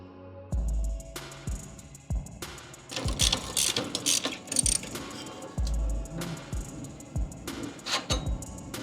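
A ratchet with a 13 mm deep socket loosens exhaust clamps on an MK7 GLI during a downpipe install: several quick bursts of sharp ratcheting clicks separated by short pauses, close and clear.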